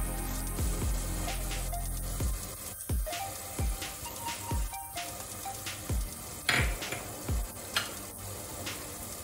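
Spice powders sizzle gently in an onion, tomato, ginger and garlic paste for beef curry over low flame, with soft frying hiss and repeated scraping stirs of a spoon against the pan.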